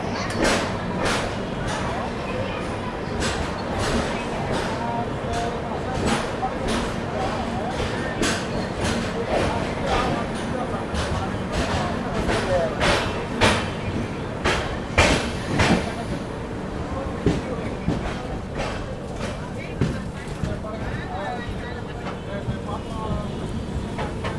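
The Tamil Nadu Superfast Express, train 12621, pulls out of Chennai Central with a steady rumble and regular rhythmic clacks of the wheels on the rail joints, heard from inside a 2AC coach.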